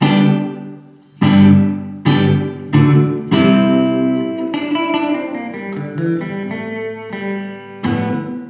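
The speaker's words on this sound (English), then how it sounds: "I have the Eno reverb, which I have set to being kind of a almost like an 80s reverb" Electric guitar chords ring out one after another, each with a short, punchy reverb that cuts off abruptly, giving a bright, shimmering 80s-style sound.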